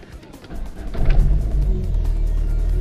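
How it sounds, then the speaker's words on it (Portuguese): A car engine turns over and catches, swelling to a deep rumble, then settles into a steady low idle. "vamos ligar aqui o carro."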